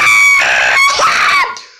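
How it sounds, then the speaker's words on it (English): A loud, high-pitched scream rises and wavers for over a second, then breaks off and fades, heard alone and up close. "Pinkie screamed."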